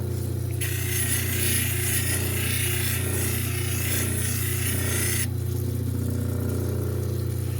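Fordite sanded by hand with sandpaper before moving to 600 grit: a steady, gritty rasping scrub lasting about five seconds, close and even, over a constant low machine hum that continues after the rubbing stops.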